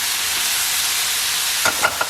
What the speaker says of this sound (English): Just stir for a minute or so, and it's ready.